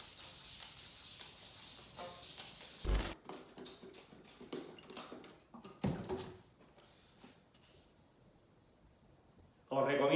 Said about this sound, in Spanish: si tenéis que lijar un tubo, la mejor forma de hacerlo es que pongáis la lija de esta manera, que abrace el tubo